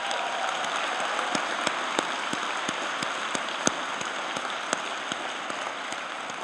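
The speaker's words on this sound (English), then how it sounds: "Let's give them a round of applause." A large hall audience claps at a college convocation ceremony, producing a steady, hissing wash of distant applause with scattered sharper claps standing out, even in level and without talk.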